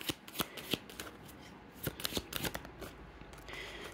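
Tarot cards being shuffled by hand up close, a continuous run of crisp riffling and flicking slaps with an uneven rhythm and no talking.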